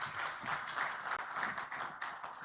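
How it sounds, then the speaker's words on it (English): Audience applause at a business forum, a steady wash of many hands clapping at moderate distance, fairly even throughout with slight swells and no speech over it. "Let's give them a round of applause"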